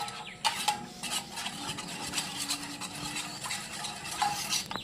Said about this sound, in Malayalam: ഒരു സ്പൂൺ കോൺഫ്ലവർ ഇട്ട് കൊടുക്കണം എന്നിട്ട് നന്നായി ഇളക്കി കൊടുക്കണം